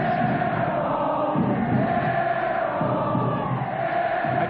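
Duke home crowd at a 1985-86 college basketball game against Maryland, a sustained roaring murmur and cheering throughout, with no clear voice above it.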